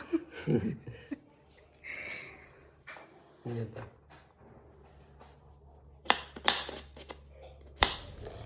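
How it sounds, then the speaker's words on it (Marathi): A knife chops raw onion in a home kitchen while a biryani is being prepared. Quick, sharp cutting strokes come in bursts near the end, with people talking and laughing nearby. "कसं फटाफट कच्चा कापून घेतलाय सगळा कांदा."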